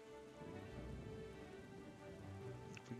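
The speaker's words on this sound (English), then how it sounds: "Stormy, choppy seas." In a video game, steady rain hisses over a stormy, choppy sea with a low rolling rumble underneath, a dense continuous wash with no talking.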